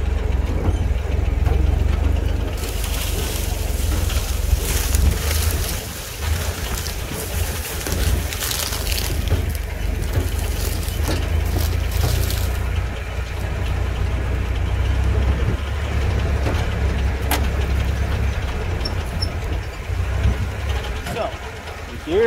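A Jeep engine idles low and steady in first gear and four-wheel low while rolling down a hill, with a constant rumble beneath someone talking.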